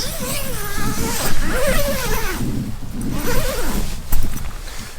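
Zipper on the inner tent door of a Hilleberg Keron 4 GT tent, pulled in several long close strokes with rasping sweeps and brief pauses between them.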